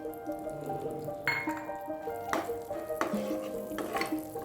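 Cashews and dried grapes roast in a pan, with faint soft sizzling under repeated light clinks and scrapes of a spoon stirring against the metal, close and quiet with no talk.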